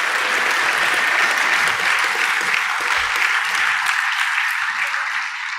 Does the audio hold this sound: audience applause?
yes